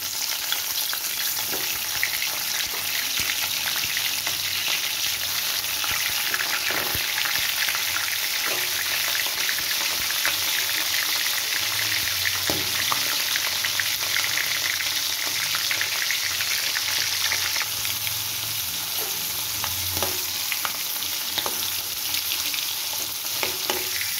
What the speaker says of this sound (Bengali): এইবার আমি কড়াইয়ের মধ্যে তেল দিয়ে মাছগুলো ভাজবো।